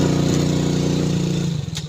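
A motorcycle engine hums steadily while riding on a food delivery run in heavy rain, a close, constant low drone that eases off and wavers near the end.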